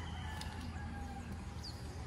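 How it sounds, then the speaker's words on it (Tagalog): Birds in a garden at Lucban, Quezon, with a faint rooster-like call and soft chirps over a steady low outdoor hum, distant and quiet. "pakinggan niyo yung sounds ng mga ibon"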